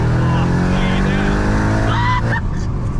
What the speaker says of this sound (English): Your car's screaming, so am I.